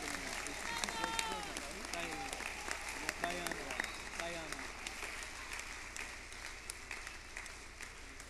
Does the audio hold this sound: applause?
yes